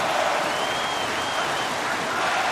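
A home arena crowd in the NHL 26 hockey video game roars steadily, a dense, continuous wash of crowd noise that holds at an even level throughout.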